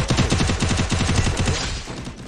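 Rapid bursts of gunfire crackle during a video game shootout in a 4v4 match, loud, dense repeated shots in quick succession that thin out and trail off toward the end.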